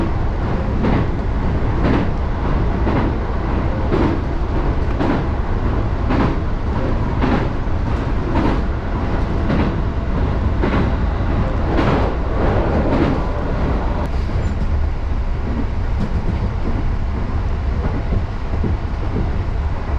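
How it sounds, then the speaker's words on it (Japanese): A freight train passes close by on the Tokaido route toward Nagoya. It makes a loud, continuous rumble with rhythmic clickety-clack beats from the wheels that runs the whole time. "名古屋に向かう途中で貨物列車とすれ違いました。"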